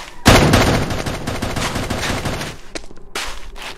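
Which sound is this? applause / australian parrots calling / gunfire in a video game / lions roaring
gunfire in a video game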